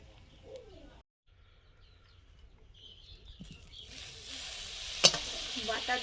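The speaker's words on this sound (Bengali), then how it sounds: "এবারে ফুলকপি রোস্ট করে নেব" Cauliflower pieces sizzle in hot butter with whole garam masala for a Bengali cauliflower roast, a quiet spell of stirring giving way to a louder, steady frying hiss with a sharp clink of utensil midway.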